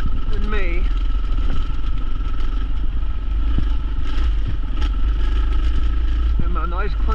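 Several dual sport motorcycles ride a muddy trail with many creek crossings near Sycamore Creek, a steady loud engine drone with clatter and a few rising revs, near and continuous, with people talking over it.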